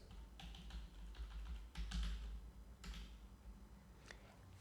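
Keys clatter on a computer keyboard in irregular bursts of soft clicks, close and fairly quiet against a steady low hum, while someone sets up a student attendance table in a Laravel school management system.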